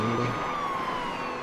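Siren power-up sounding in Beach Buggy Racing 2, a loud continuous siren tone that sweeps gently downward over busy racing noise, with a brief low tone at the start.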